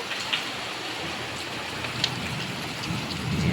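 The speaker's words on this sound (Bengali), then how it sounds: "বাইরে কতটা বৃষ্টি।" Heavy rain falling outside, a dense, steady hiss of downpour on surfaces with scattered drop impacts, continuous and fairly loud, with no talking.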